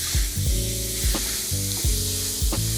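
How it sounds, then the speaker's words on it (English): Ground beef crumbled into a hot pan for mini taco bites sizzles loudly and continuously, with a few soft utensil bumps and scrapes in a regular rhythm, close up with no talking. "we're going to crumble up our beef inside the pan"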